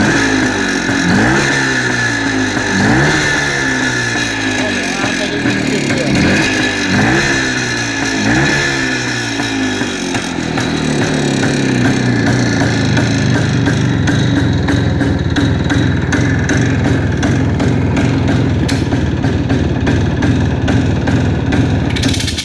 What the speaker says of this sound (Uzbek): Mana hozir gaz berib ko'raman aka.